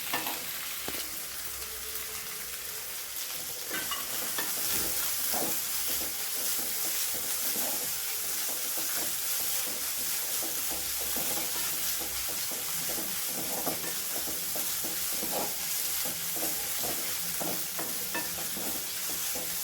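Chopped onion, ginger, garlic and green chillies sizzle steadily in a hot pan, with occasional scraping and stirring, continuous and close, with no voices.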